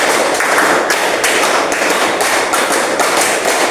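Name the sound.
class clapping in a counted rhythm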